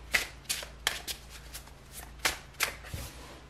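Tarot cards are shuffled by hand close up, with a series of short riffling bursts at an uneven rhythm and soft pauses between them.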